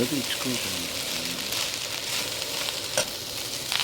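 Fried rice tossed with red chilli, green chilli and soya sauces hisses loudly in a hot pan, a continuous sizzle with stirring scrapes and a couple of sharper clinks, while a voice talks over it.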